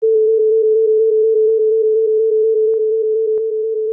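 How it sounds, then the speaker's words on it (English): Rapidly alternating pure sine tones very close in pitch form a steady, loud, even pulse, one tone wavering slightly up and down without pause. "If we start with alternating tones that are very close together, we tend to hear one pitch that is moving slightly up and down."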